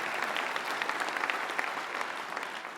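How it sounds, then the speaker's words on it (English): During a church service the congregation claps in a lively, crackling burst with individual sharp claps standing out, holding steady and then easing slightly toward the end. "that's a good place to clap. Go ahead and clap."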